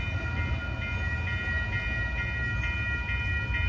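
An Amtrak Coast Starlight passenger train, train 11 bound for Los Angeles, rumbles past the 98th Ave crossing with a low droning roll and faint rhythmic track clatter, a constant mechanical whine running through it.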